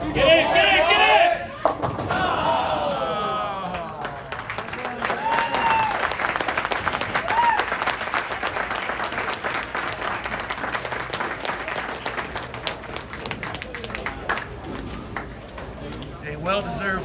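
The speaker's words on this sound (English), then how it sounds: "Well-deserved big hand from the remaining crowd on a Sunday afternoon here in Phoenix" Sustained applause from the remaining crowd on a Sunday afternoon at a junior bowling tournament at Desert Hills in Phoenix, a dense steady wash of clapping that swells after a brief louder burst and holds for the rest of the clip.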